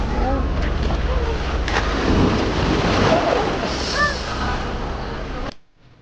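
Rain falls hard on the beach at Fuengirola, Málaga, a loud, roaring wash of noise with low rumbling, while voices murmur faintly beneath it before it cuts off abruptly.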